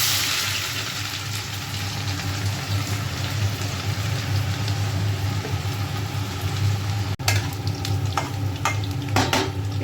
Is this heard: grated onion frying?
yes